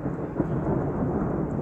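Close thunder rumbles through a severe thunderstorm in southeastern Pennsylvania, a steady low roar with rain for the whole short stretch and a slight swell near the start.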